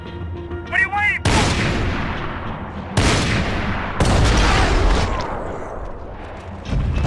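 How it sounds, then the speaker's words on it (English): Gunfire in the shooter game Max Payne 3, several loud bursts of shots and booms in quick succession amid a firefight, with a character shouting briefly at the start. "Shoot, Max, shoot!"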